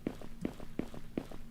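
Running footsteps in a video game, four evenly spaced thuds with lighter taps between them, moderately quiet and heard alone.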